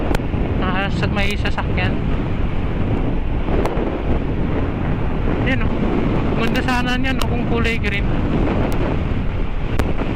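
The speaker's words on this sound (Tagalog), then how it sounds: "Grabe hangin, lakas." Strong wind buffets the microphone during a motorcycle ride on a North Luzon loop, a constant loud rumbling roar throughout, with someone speaking over it in short bursts.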